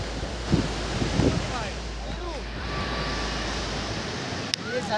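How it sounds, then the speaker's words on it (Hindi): Water sprays from a waterfall near Sissu with a constant broadband rush, mixed with gusty wind buffeting the microphone and a few faint voices early on. "झरने का पानी है, दिखा दो।"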